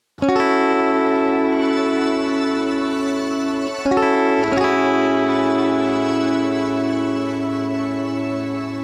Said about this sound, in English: can also set how prominent you want the grains to be with this knob here